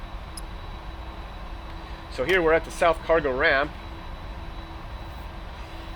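Boeing 747-400 jet engines idling in the PMDG flight simulator, parked at a cargo ramp. A steady low rumble with a faint whine runs throughout, and someone speaks briefly over it.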